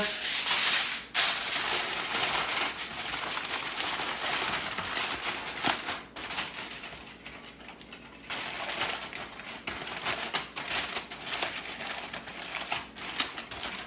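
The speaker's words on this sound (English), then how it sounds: "I'm gonna cover them up. I've got some aluminum foil here." Aluminum foil crinkles and crackles as it is pressed over a tray of oil-coated beets, a continuous, bright rustling with sharper crackly bursts, close and fairly quiet.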